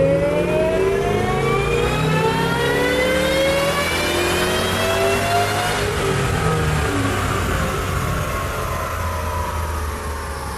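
A 700 whp Shelby GT500 screams through a long wide-open pull on a dyno, its engine pitch climbing steadily for about ten seconds, loud and close, with no talking.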